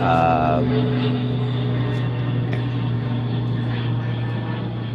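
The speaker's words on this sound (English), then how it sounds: "An airplane with props." A propeller airplane drones steadily overhead, a loud continuous engine hum that fills the whole stretch with no pause.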